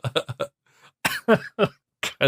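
Close, harsh coughs come in a quick cluster, then after a short pause a few more spaced-out coughing bursts follow.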